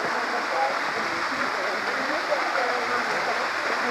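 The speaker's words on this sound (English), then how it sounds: "Pretty nice waterfall." A waterfall along a backpacking trail in Spruce Grove gives off a constant, close, broadband rush of falling water that holds steady with no breaks.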